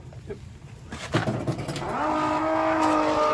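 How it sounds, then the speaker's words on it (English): A pump switches on to drain a residential water heater, settling into a loud, steady motor whine with a sustained tonal hum after a few clanks and handling knocks. "now let's turn on that pump"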